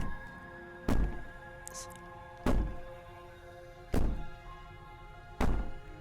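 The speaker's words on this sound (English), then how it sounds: "Maybe the banging and wailing will stop if you just don't pay attention." Heavy banging on a door in the video game Slay the Princess: four loud, booming thuds spaced about a second and a half apart, each with a short ringing decay, over a low humming background.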